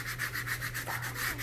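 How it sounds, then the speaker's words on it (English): A hand rubs firmly across the back of a vinyl decal to press it onto transfer tape, giving a close, rhythmic series of dry scraping strokes. "rub this back side down, because you want to press this into that transfer tape"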